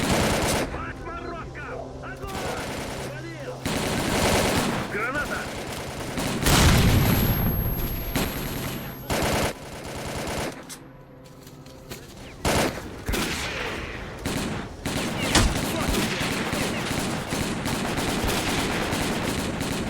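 Gunfire in the Stalker: Call of Pripyat video game crackles in dense bursts of automatic shots and booms, loud and chaotic. A voice talks over parts of the exchange.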